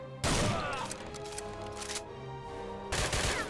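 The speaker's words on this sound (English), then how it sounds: "Suddenly I remember that I have a shotgun." Shotgun blasts in the shooter game Wolfenstein/Doom Blade of Agony: two loud booming shots with rattling tails, one at the start and one near the end, over game noise.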